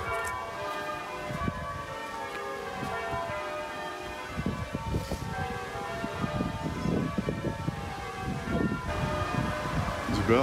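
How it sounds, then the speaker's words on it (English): Church bells in the UK ring with sustained, overlapping tones that hang in the air, while faint clatter and rumbling sounds come and go underneath. "These are bells."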